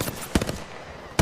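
Two short bursts of automatic gunfire in a competitive online shooter, each a cluster of sharp cracks, the first around a third of a second in and the second near the end, fairly close with a steady hum between.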